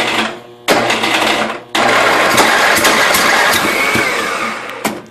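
A 1992 Yard King lawn tractor engine cranks and catches, with loud, rapid mechanical chattering broken by two short pauses before the small engine keeps running roughly.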